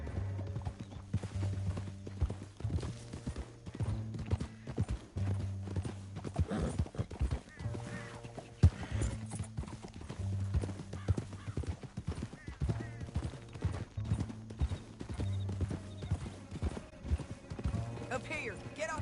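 Horse hooves clip-clop at a steady gallop rhythm in the Red Dead Redemption 2 video game, a repeating beat under a voice, with a horse whinnying briefly.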